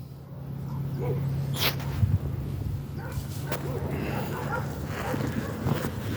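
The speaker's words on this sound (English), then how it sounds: "Those dogs are more interesting." Dogs yip, whimper and give short barks amid background noise, close to moderately near, with scattered sharp calls over a low steady hum.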